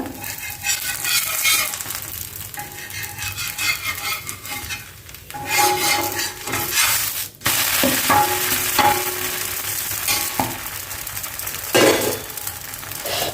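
Oats dosa cooking on a hot pan: steady, close sizzling and frying with scattered scrapes and clinks of a utensil against the pan, and no talking.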